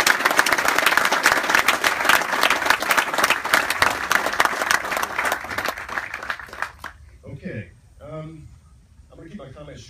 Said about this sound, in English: a round of applause, of course, for all the Marines here in the division who practiced so hard this week